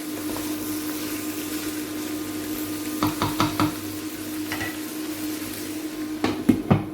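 Carrots and onions browning in a pan for an Algerian-style peas and carrots dish give a steady low sizzle, with a few sharp utensil knocks and clatters against the pan near the middle and end; no talking.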